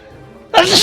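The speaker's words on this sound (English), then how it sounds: "I'm having a sneezing fit." A single sharp, loud human sneeze bursts out abruptly after a quiet moment, close to the listener, during a sneezing fit.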